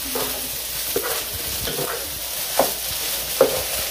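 Yangzhou fried rice being stir-fried in a pan: a steady sizzle runs throughout, with the utensil scraping and tossing the rice in several sharp strokes, close and moderately loud, with no talking.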